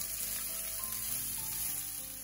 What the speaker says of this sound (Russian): Обжариваю, помешивая одну минуту.